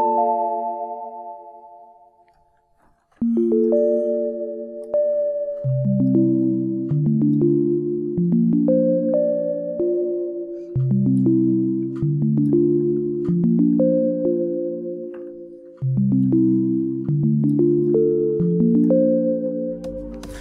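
The Book of Memories keys preset from the Arturia Analog Lab Play synth plugin plays soft, mellow chords in a slow repeating progression, each chord ringing and decaying, clear and alone after a brief pause.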